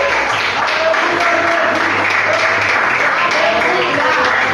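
A church congregation applauds during a sermon, a continuous wash of clapping that is fairly loud, with faint voices beneath it.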